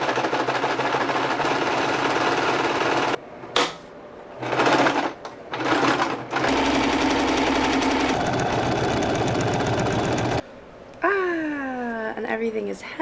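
A domestic sewing machine hems fabric in loud, steady whirring runs broken by brief pauses, with a voice speaking near the end.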